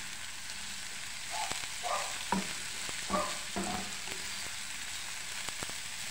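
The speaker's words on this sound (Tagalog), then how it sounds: "Haluin natin guys kasi natusunog yung bawang." Garlic fries in a pan for stuffed crab relleno, on the verge of burning, a soft even sizzle with a handful of spatula scrapes and taps as it is stirred, fairly quiet throughout.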